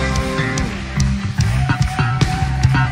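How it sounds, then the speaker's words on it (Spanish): Bass guitar in a worship song, playing low sustained and stepping notes under the full band, loud and steady with no voices. "Y ese bajo suena así."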